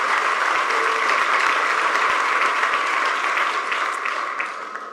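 A church congregation applauds in a steady, dense patter of many hands clapping together, fairly close and sustained, slowly thinning toward the end.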